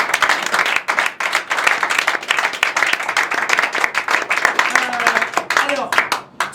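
Audience applause at a comic convention stage show in Paris, loud and dense clapping from a crowd throughout, with a voice briefly heard near the end.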